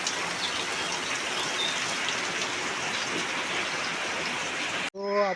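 Heavy rain pours steadily over a village, a loud, close, unbroken wash of drops that cuts off abruptly near the end, where a short voiced sound follows.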